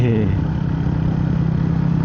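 Motorbike with a big silencer, apparently a Royal Enfield, idling with a low steady throbbing putter close by, a voice speaking over it.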